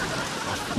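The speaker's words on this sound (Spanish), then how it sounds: "¡Qué lluvia!" A brief, faint burst of steady rain hiss used as a sound effect in a Spanish television comedy sketch set at a hotel in Palma de Mallorca, lasting under a second with no voices.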